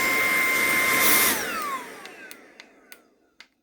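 An xTool S1 smoke extraction fan runs in suction mode, a loud airy whoosh that winds down and fades after about a second and a half, followed by a few sharp clicks and taps.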